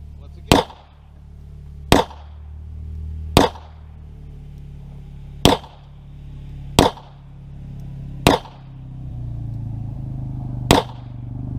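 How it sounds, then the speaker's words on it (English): Seven sharp gunshots ring out one at a time at uneven intervals at Sycamore Creek, each a loud crack with a short echo over a low engine hum. "You probably heard the gunfire goes off"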